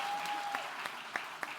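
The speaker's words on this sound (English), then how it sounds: "Please give her a round of applause." Scattered audience applause greets a guest at an event on AI in Africa, with a few sharp separate claps standing out over a soft background.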